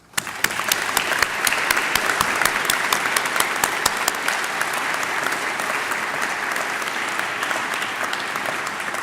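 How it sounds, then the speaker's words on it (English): Audience members at a college honors convocation give the faculty a long, even round of applause, a steady roar of many hands clapping with a few sharper nearby claps standing out. "Please join me in giving a round of applause to our incredible faculty for their unwavering commitment and lasting impact on their students' lives."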